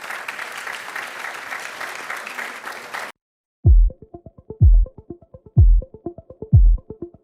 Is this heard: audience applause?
yes